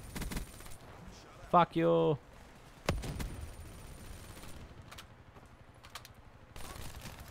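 Shotgun blasts in a live casual online shooter match, a few sharp bursts with long tails around a loud harmonic shout, set against a steady game ambience.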